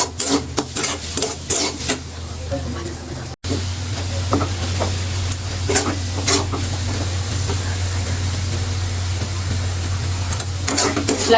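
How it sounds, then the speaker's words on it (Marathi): Modak filling of grated coconut and jaggery roasting in a pan for ukadiche modak, a steady scraping stir with soft sizzle running throughout, close and continuous, with a brief break early on. "थोडंसं ब्राउनिश होईपर्यंत भाजायचं."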